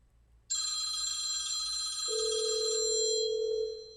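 A phone rings steadily with a bright electronic tone, joined midway by a second, lower ringing tone; loud and close, no talking.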